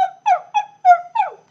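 A human voice imitates a seal barking: five short, throaty honking barks in quick succession, close and fairly loud, with no other sound around them.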